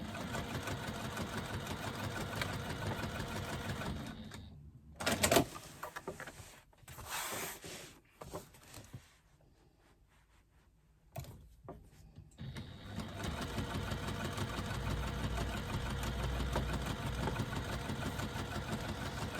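A sewing machine stitches fabric taut onto foam, its motor humming steadily at the start and again at the end, with a quieter stretch and scattered handling noises in between.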